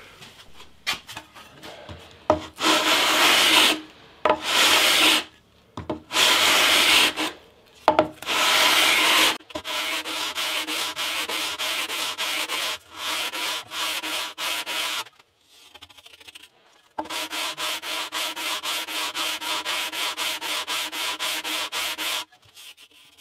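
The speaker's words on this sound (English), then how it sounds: "I think I'm going to use a levelling beam with some 60 grit" A guitar fretboard is sanded with a levelling beam and 60-grit paper, giving coarse, rhythmic rasping strokes in loud bursts separated by short pauses, close and with no talk.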